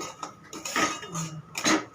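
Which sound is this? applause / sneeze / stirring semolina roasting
stirring semolina roasting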